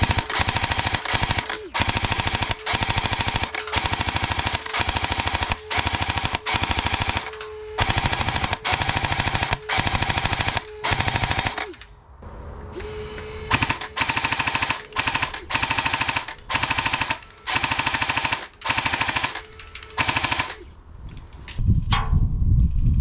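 An airsoft MG42 AEG machine gun fires on an outdoor range in long, rapid rattling bursts broken by short pauses, loud and close, with the firing growing more broken toward the end.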